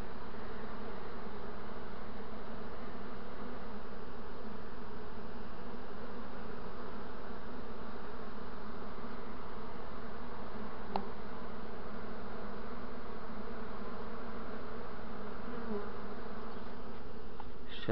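A honey bee swarm hums around a hive in a dense, continuous buzz at moderate loudness, steady from start to finish with no voices.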